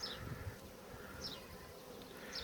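Honeybees buzzing around two newly delivered hives at an apiary in Le Grand-Pressigny, a soft continuous hum with individual bees zipping close past now and then, no talk.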